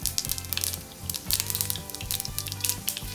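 Mustard seeds and dried red chillies sizzle and crackle in sesame oil, a close, busy frying hiss with sharp pops throughout and no talk.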